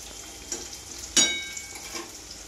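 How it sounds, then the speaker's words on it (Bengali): Hot oil splatters in a pan during frying, a faint sizzle broken by a sharp crackling pop that fades out, heard up close without talk. "অনেক তেল ছিটছে তো, গরম গরম তেল"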